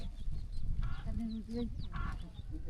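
A duck outdoors in rural Laos gives a few short, nasal quacks amid a dense, rumbling background of noise.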